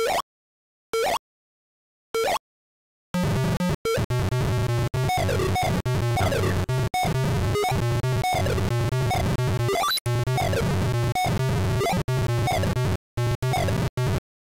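Harsh, buzzy electronic beeps and chirps from a PC speaker playing Commander Keen, a few short blips with gaps, then a dense, nearly continuous jumble of bleeping game effects.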